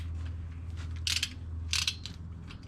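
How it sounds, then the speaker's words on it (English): Ratchet clicking while a bolt is torqued down on the timing cover of a Jeep Wrangler 3.8 engine, with two or three short bursts of sharp clicks over a steady low hum. "I'll torque it down and you can film."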